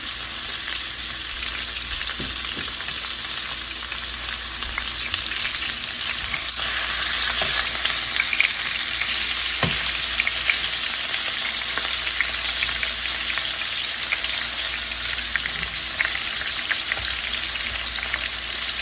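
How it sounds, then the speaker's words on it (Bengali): Spiced chicken frying in oil, a steady close sizzle and hiss that runs throughout, with a few soft clicks from stirring now and then and no voices. "তেলের মধ্যে ফ্রাই করার লাগে, কারণ আগে থেকে আমি চিকেনটারে সব ধরনের স্পাইস দিয়া মাখাইয়া রাখতে দিয়েছিলাম।"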